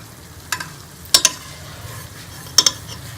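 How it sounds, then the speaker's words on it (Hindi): Spices and softened tomatoes stirred and roasted in a pan, a few sharp spoon scrapes and clacks standing out over a quiet, steady sizzle. "इसको अच्छी तरह से हम मिक्स कर लेंगे और मसाले को हम 2 से 3 मिनट के लिए अच्छी तरह से भून लेंगे"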